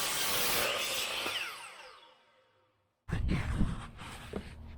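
A 2x4 wooden board being cut for a fence repair, a loud rough sawing burst that fades out, then a pause and a second harsh, close bout of cutting.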